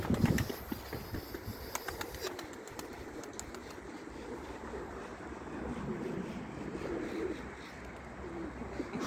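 Pigeons cooing in a loft of breeding pigeons, soft repeated coos layered over a busy flutter of wings and scattered bird sounds, with a steady outdoor background hiss throughout.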